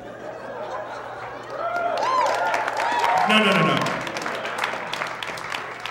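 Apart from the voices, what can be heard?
audience applause, partial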